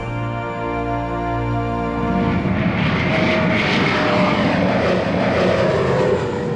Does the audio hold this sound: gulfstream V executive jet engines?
yes